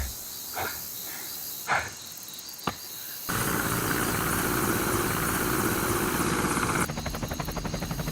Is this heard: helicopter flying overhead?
yes